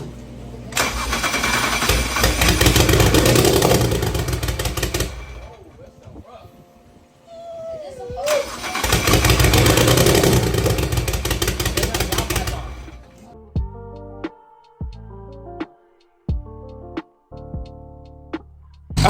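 A BMW N54 engine with its downpipe off cranks and fires twice, roaring loudly for several seconds each time before cutting out, followed by a few sharp mechanical clicks and knocks.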